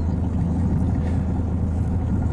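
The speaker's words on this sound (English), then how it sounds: "you can hear that I'm actually just idling the boat very slowly across" Boat motor idling slowly while crossing a river at low speed, a steady low rumbling drone with no voices.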